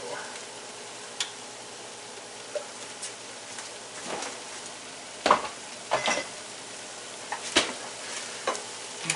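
Soft sizzling from a frying pan runs underneath, broken by occasional clicks and scrapes of utensils.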